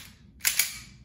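A stainless steel RWA NightHawk Custom gas blowback airsoft pistol fires two sharp, quick cracks in close succession, near and clear against a quiet background.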